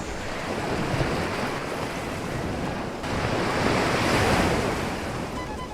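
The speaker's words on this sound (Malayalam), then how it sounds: "ശാന്തമായ അറബിക്കടലിന്റെ പതിഞ്ഞൊഴുകുന്ന തിരമാലയൊക്കെ കണ്ട് നമ്മളിവിടെ കുറച്ച് സമയം ചെലവഴിച്ചു" Calm Arabian Sea waves wash onto the shore near Azhimala, Trivandrum, Kerala, in a steady, close roar of surf. Wind rumbles against the microphone, and the wash swells louder partway through.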